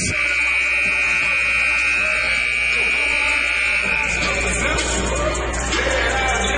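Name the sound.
buzzer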